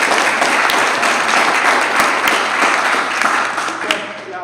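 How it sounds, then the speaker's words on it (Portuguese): Steady, dense applause from an audience at a developer testing meetup in a tech venue, sustained and loud throughout with no break in the clapping. "Palmas."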